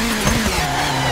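A Citroën DS3 rally car in the WRC 4 game skids under the handbrake on the Monte Carlo St Bonnet stage, with a brief loud tire squeal over engine drone.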